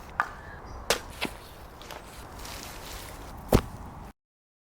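Crunchy snow textures are recorded up close for a foley pack: soft scrunching and crackle with a few sharp, crisp snaps, the whole clip faint and intimate before it cuts to silence.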